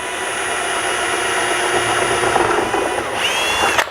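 A power drill bores a hole for a vehicle tail light, giving a sustained close whine that holds steady and then shifts pitch and cuts off near the end.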